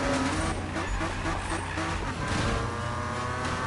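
BMW drifting in Need for Speed, a dense engine roar with tire squeal and skidding noise running continuously and loud throughout, with game music or effects layered in.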